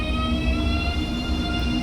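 A train running the Dresden route in Train Sim World 2, a steady loud rumble with sustained tonal hums and whine held throughout, no talk over it.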